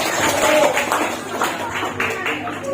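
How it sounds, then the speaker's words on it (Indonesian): Brief burst of audience clapping at a girls' Quran recitation contest at an Islamic boarding school, scattered claps of moderate loudness over a busy room. "kasih tepuk tangan dulu dong"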